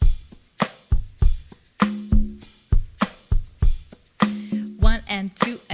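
Ukulele strumming a down-up-chunk pattern over a backing beat, crisp rhythmic strokes with sharp muted chunks in a steady, repeating groove.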